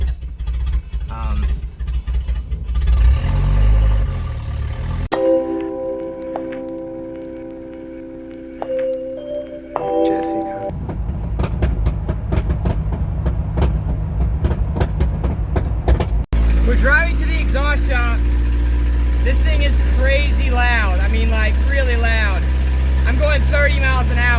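Toyota truck engine with a new manifold idling roughly, a steady low rumble throughout with shifting tones and mechanical noise, close by, with no clear talk over it.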